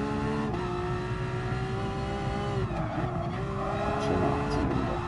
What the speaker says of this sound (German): Schöner 8-Zylinder. Super Sound.